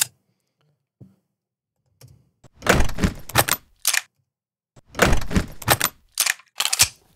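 A shell case dropping effect from a sound library comes as clusters of sharp metallic clicks and clatters, quiet gaps between bursts, close and crisp with no voices.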